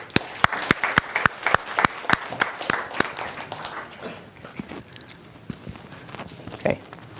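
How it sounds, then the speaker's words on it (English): A class audience applauds in a lecture room, a brisk run of sharp claps that thins out to scattered claps over several seconds. "So let's give a round of applause again to."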